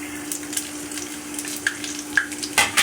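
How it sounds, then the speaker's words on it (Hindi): Cumin and coriander seeds sizzle in hot oil previously used for frying champ, a steady close crackle with brighter pops near the end, no voices. "जिस तेल में मैंने चांप फ्राई की थी उसी में मैं ये जीरा डाल रही हूँ"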